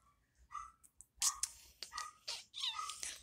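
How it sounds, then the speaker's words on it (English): A cat meows in a string of short, close cries with brief gaps between them, faint overall with no talking. "the cat drives me crazy"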